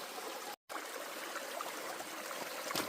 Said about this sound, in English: Send that through the sluice.